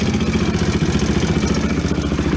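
Coleman 250UTV engine running with its rear wheels lifted off the ground, a loud, close, rapid mechanical clatter and throb that stays steady and continuous throughout.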